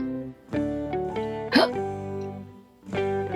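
An animated cartoon girl hiccups, a voiced performance of several short squeaky, tonal hiccups spaced unevenly and close up, with one sharper gulp in the middle.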